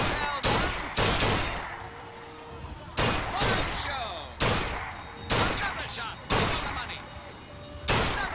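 Loud, close gunshots from a period firearm in BioShock Infinite ring out in a steady sequence of six or seven single blasts spaced about a second apart, each with a long echoing tail, while a voice talks faintly in between.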